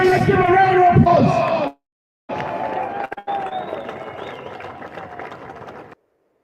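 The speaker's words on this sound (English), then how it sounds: "Let's give a round of applause." A crowd roars, cheers and claps loudly for about a second and a half, breaks off, then returns as sustained cheering, whooping and applause with voices yelling throughout.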